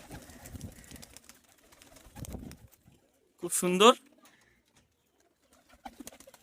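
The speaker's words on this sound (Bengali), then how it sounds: "নিচের ঘরটায় পুরো পায়রা আছে" Pigeons in a loft give a short burst of throaty cooing, close and clear, between stretches of quiet and soft speech.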